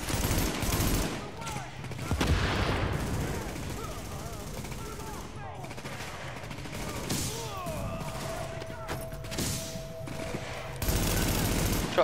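Shotgun fire rings out during a firefight in The Division, heavy blasts among other bursts of gunfire, moderately loud, with players talking throughout.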